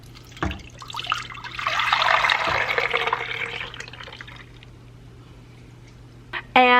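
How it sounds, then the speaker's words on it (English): A smooth pour of egg-yolk and maple syrup ice cream mixture running into an ice cream maker, a soft trickling stream that swells and fades over several seconds before a brief clatter at the end. "next pour it into your ice cream maker"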